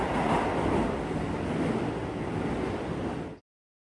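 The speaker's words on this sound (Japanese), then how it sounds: "映像は羽田空港行きの電車です。" Steady loud rushing roar of a train bound for Haneda Airport at Oshiage Station, broadband and continuous, cutting off abruptly near the end.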